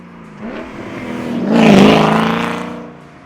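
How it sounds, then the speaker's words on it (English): A BMW M60 V8 engine revs up to a loud peak and falls away again, a single smooth throttle blip heard close and alone. "here are the sounds of that V8 once again"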